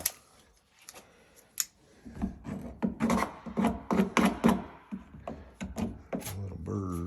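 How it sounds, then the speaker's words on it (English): A file rasps the burrs off a freshly cut pipe end during deep-well pump work at a homestead, with a run of quick, rhythmic scraping strokes close by, preceded by a few scattered knocks and handling sounds. "get the little burrs off."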